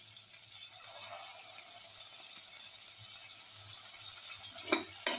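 Cumin, carrot, tomato and rice sauté in a pan with a faint steady sizzle, light stirring scrapes and a few soft clinks near the end, quiet and close with no talk.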